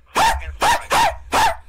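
A person imitates a dog, letting out four loud, evenly spaced barks in quick succession, each one short and voiced with a yelping tone.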